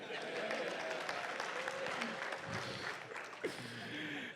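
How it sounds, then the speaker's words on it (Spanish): A crowd claps in steady applause for a few seconds, a dense patter of hands at moderate distance. "Otro aplauso a Lielson"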